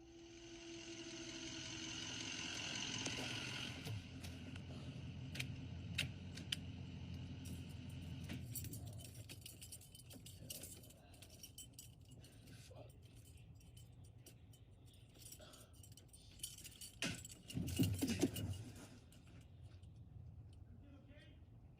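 Keys jangle and rattle in short bursts near an ambulance, with a louder metallic clatter toward the end, over a low engine-like rumble and some background talk.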